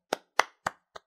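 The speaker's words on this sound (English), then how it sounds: "golf clap" Four slow, soft hand claps in a quiet golf-clap style, evenly spaced, each a sharp dry smack with the last one lighter.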